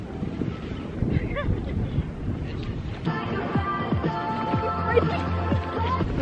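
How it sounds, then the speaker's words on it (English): Wind blows hard at a beach by a beach house, a steady rushing roar and microphone buffeting that runs throughout, with voices and some tonal background sound joining in the second half. "Why is it so windy?"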